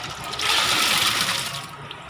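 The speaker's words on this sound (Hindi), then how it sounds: "और मैं डाल रहा हूँ जो हमने चिकन बॉईल करके रखा था," Boiled chicken with its liquid goes into a pan of roasted sesame, cashew and melon seeds for a white chicken gravy, giving a close, steady watery rush and splash lasting about two seconds, with no talk.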